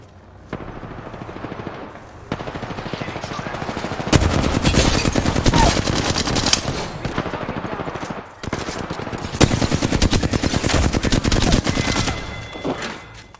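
Rapid automatic gunfire in the video game Apex Legends, long loud bursts of closely spaced shots with brief pauses between, dense and continuous through most of the stretch.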